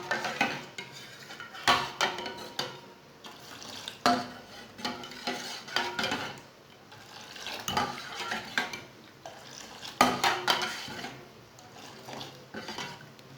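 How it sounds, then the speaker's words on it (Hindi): A spoon stirs milk into tea in a metal pot, producing soft repeated scraping and clinking strokes against the pot in an uneven rhythm, fairly close and quiet, with no talking. "एक कप दूध डालेंगे। अच्छी तरह मिक्स कर लेंगे।"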